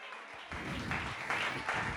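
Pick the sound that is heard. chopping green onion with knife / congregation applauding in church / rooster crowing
congregation applauding in church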